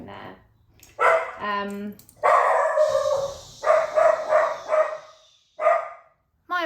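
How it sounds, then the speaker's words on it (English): A puppy barks and yips in short, sharp bursts close by, several barks in a row with brief pauses, while a person speaks briefly. "My apologies for the interruption from the puppy."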